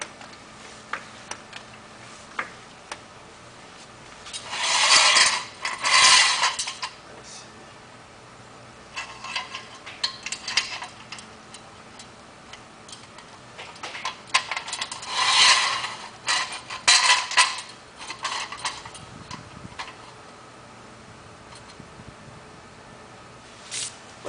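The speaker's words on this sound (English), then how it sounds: "with all the lug nuts loosened, we'll jack up the front end, place our jack stands in place" A jack lifts the front end of an electric Karmann Ghia conversion in a garage, giving clicking, ratcheting mechanical strokes in bursts, loudest around five and fifteen seconds, with quieter ticks between.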